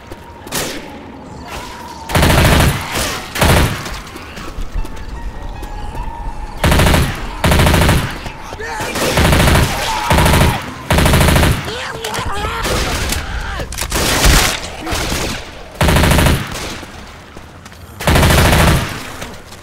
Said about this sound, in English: I'm gonna try this sniper rifle.